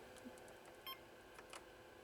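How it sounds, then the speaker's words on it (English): A short electronic beep sounds once, brief and clear over a steady background hum, from a Nintendo Space Firebird arcade circuit board during a ROM test. "So it's going to beep anyway."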